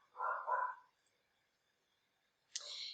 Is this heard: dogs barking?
yes